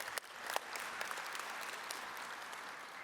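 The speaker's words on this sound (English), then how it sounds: "Let's give Mr. Allen a round of applause, please." A large audience at a high school sports hall of fame induction ceremony applauds for an inductee. The clapping is dense and steady, with a few sharper claps near the start, and it holds its level for the whole span.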